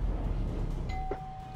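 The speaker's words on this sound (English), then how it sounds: "Listen to that mechanical bell chime and that Otis." Mechanical bell chime of an Otis elevator, a single clear ding ringing out and sustaining over low background hum, close and distinct.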